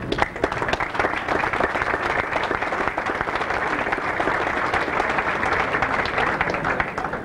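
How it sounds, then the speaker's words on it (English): A banquet audience applauds the umpires standing among them, dense sustained clapping filling the room evenly from start to finish without a break. "I'd just like them to stand and give them applause"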